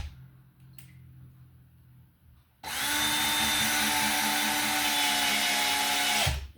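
Power drill driving screws into a wooden wall stud while mounting a new wall light, a quiet lead-in followed by a loud steady whirring drive for several seconds that stops abruptly.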